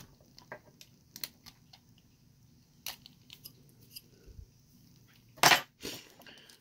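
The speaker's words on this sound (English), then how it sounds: "we'll take our X-Acto knife and we'll just try to come down through here and trim this up" Short, sparse cuts and snips as an X-Acto knife trims material on a 2019 Ford flatbed build, with irregular close clicks and scrapes, a louder crunchy burst near the end, and otherwise quiet pauses.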